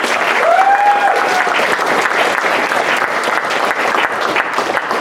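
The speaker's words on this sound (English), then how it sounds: "please give a round of applause for Rachel" An audience at a Seed Waikato talk bursts into loud, continuous applause to welcome a speaker named Rachel, with a brief whoop near the start over the steady clapping.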